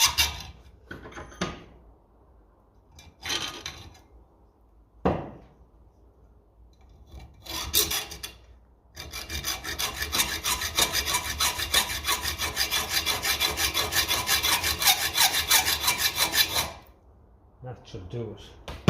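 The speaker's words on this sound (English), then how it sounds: "get your hacksaw and just slot him again" A hacksaw cuts a deeper slot into a metal part from a Ferguson 20 diesel TEF tractor. After a few short scrapes, close steady back-and-forth strokes carry on for about eight seconds, then stop.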